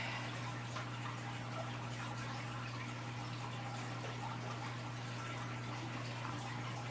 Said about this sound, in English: I'm going to get some water into this pitcher.